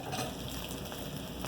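Onions go into saltfish already frying in a pan, giving a steady, close sizzle with faint watery crackle and no voices over it.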